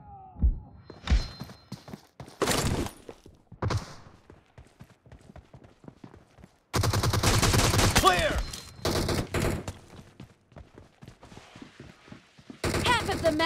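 Gunfire in PUBG sounds as bursts of rapid shots and automatic fire, loud and close, in several separate spells with quieter gaps, and a voice talks in between.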